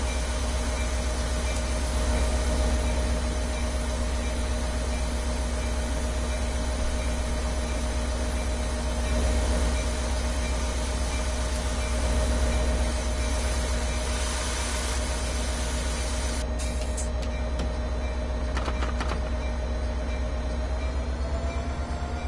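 An F40 diesel locomotive engine runs in the Train Sim World video game with a loud, steady low rumble and a constant tonal hum, continuous and close, with brief clanks toward the end and no talk.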